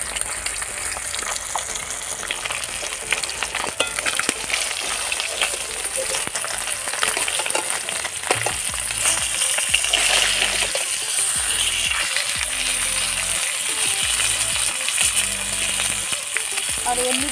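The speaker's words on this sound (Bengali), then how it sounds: "আর এমনিভাবে আমি সবগুলোকে ভেজে নেব।" Fish coated in salt and turmeric frying in hot oil in a pan, a steady loud sizzle and crackle running throughout with occasional stirring and faint clatter.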